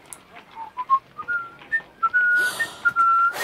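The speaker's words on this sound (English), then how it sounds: "But I'll whistle you a tune." A person whistles a lilting tune alone, a run of short rising and falling notes that settle into longer held pitches, clear and close.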